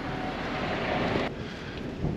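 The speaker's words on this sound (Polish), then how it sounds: "Niemiły wiatr dzisiaj mamy" Steady gusting wind buffets the microphone in a low roar, briefly easing midway, with no talking.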